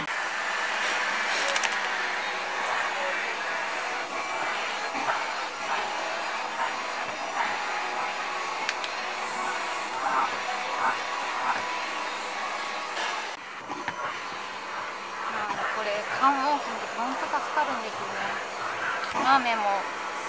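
A vacuum cleaner runs steadily and loudly close by for the whole stretch as it is used to groom a shedding Kai Ken dog, with faint voices at times.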